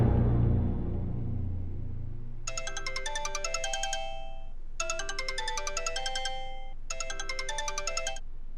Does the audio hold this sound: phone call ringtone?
yes